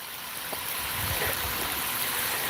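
Water runs steadily out of a garden hose into an outdoor garden, a continuous trickling, gurgling flow heard close by with no talk over it.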